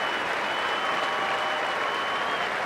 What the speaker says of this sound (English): And a very good ovation for the local crowd